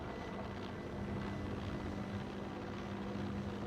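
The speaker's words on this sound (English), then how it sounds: "Let's hear the chopper." A helicopter from a video game drones steadily with a continuous rotor and engine rumble, moderately loud and unbroken throughout, with no voices over it.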